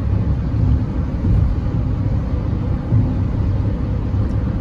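Steady low engine drone and road rumble inside a moving 2022 Hyundai HB20 Evolution 1.0, loud and continuous with no talking.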